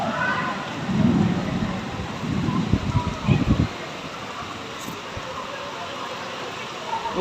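Heavy rain pours down with gusty storm wind during a thunderstorm, a steady wash of noise with louder rumbling bursts early on, fairly close and continuous throughout.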